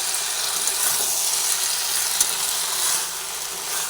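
Okra frying dry in an oil-filled pan over a lowered gas flame, a steady close hiss and sizzle with faint scraping stir sounds running throughout, no voices.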